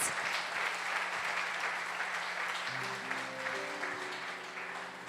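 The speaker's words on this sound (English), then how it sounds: "Let's give a round of applause for Dr. Chris, for everybody that has participated in this service." An audience at a spiritual service gives a sustained round of applause, steady dense clapping that slowly fades, with a faint music tone entering underneath partway through.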